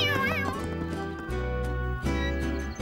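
A cartoon cat meows in a children's animated show, its voiced cry rising and wavering over a steady bed of background music that carries through the whole stretch.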